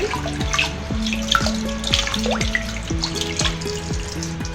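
Tap water runs indoors while house plants are washed. It makes a steady, close splashing stream with gurgling and dripping layered through it, and nobody speaks.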